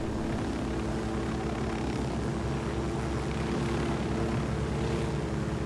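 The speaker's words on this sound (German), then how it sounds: "Das ist halt so ein alter schwaches Flugzeug." A weak old propeller airplane engine in Ghost Recon Wildlands drones steadily and loudly for the whole stretch, a continuous close engine hum with no talk over it.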